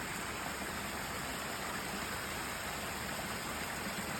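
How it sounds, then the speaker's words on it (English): Water in a natural stream near Cleveland Dam in West Vancouver rushes and hisses in a steady, unbroken wash at moderate distance, with no voices. "sharing it with such beautiful sound of water in the nature"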